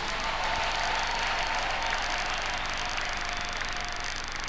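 A church congregation claps for Jesus during a French-language sermon, a dense, continuous wash of applause that holds steady and fairly loud for the whole stretch.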